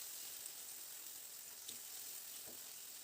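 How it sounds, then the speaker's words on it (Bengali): Spice paste sizzling in hot oil in a pan while being stirred, a soft continuous fry hiss with a few faint utensil scrapes, quiet and unbroken, no voices. "এবার মশলাটাকে মিনিট 2-3 মতো খুব ভালো করে নাড়াচাড়া করে নেব।"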